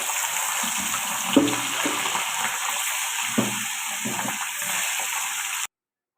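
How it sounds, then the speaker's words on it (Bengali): Fish sizzle and bubble in oil, a watery frying hiss with a couple of louder spits before it cuts off abruptly. "এইভাবে সব মাছগুলো ভেজে দিব লাল লাল করে"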